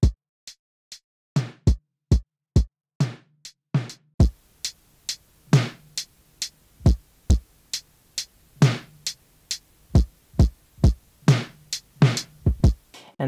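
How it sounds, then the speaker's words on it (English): A dry original drum track plays back with sharp, punchy kick and snare hits, sparse at first and then settling into a steady rhythmic beat with tighter fills toward the end. "And now for our drums, so the originals sound like this."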